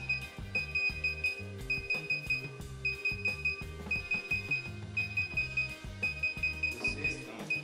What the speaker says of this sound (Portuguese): a luz fica azul e emitindo esses bips